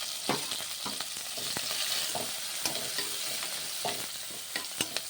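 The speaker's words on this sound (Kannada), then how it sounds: "ಸ್ವಲ್ಪ ಕೆಂಪಾಗೋ ತನಕ ಸ್ವಲ್ಪ ರೋಸ್ಟ್ ಮಾಡೋಣ" Onion, ginger garlic paste and green chilli roasting in a hot pan for Hakka noodles, a steady sizzle with repeated scraping stir strokes at close range, no talk.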